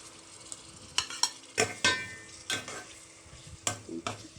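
Minced meat with tomatoes frying for matar qeema, a close, soft sizzle broken by a series of sharp spoon scrapes and clatters against the pan, several in quick bursts, no voices.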